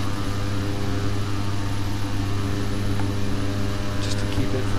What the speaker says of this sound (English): I guess I can make the engines a little